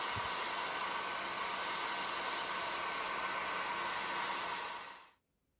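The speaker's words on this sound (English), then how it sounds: "you can always just get the hairdryer and just give it a quick blast" A hair dryer drying a watercolour painting blows in a steady, loud whoosh of broadband air noise for about five seconds, then switches off abruptly into silence.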